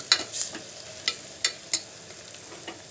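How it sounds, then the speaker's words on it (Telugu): Ginger paste frying in hot oil in a pan, a soft continuous sizzle punctuated by several sharp scrapes and taps of a spoon stirring against the metal. "జింజర్ పేస్ట్ కూడా వేసేసుకుంటున్నాను జింజర్ పేస్ట్ కూడా ఇక్కడ కలవాలి"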